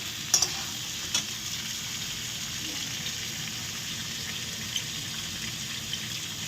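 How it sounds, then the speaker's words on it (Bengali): Diced potato and papaya fry in a hot pan with a steady, close sizzle that holds evenly throughout, broken by a few soft clinks of stirring. "আমি ভালো করে আলু দিয়ে পেঁপে দিয়ে ভালো করে একটু লাল লাল করে ভেজে নেব"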